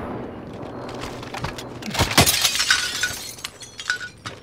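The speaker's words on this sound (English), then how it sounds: "Is that upstairs? Glass break?" Glass shatters inside the video game Warzone, a bright crash that rings out over steady background rumble, followed by scattered tinkling fragments and faint game noise.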